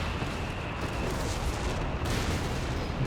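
Continuous booming battle din from a Company of Heroes 3 match, with an anti-tank gun firing amid dense artillery and gunfire, loud and steady throughout with no clear separate shots.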